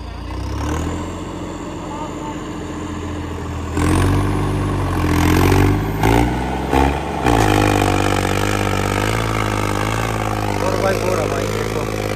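A tractor engine, stalled and smoking mid-run, cranks back to life and settles into a loud, close chugging idle with a few revving surges, accompanied by clattering and voices talking over it.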